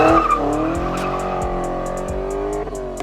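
A car exiting a car meet squeals its tires in a long, loud, wavering screech over a roaring engine, close by, with a few thumps as it slides and accelerates away.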